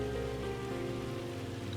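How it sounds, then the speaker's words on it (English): Heavy rain in the video game Farming Simulator 25 pours in a steady, dense hiss over a low, constant tractor engine hum, with no breaks throughout. "This is heavy raining."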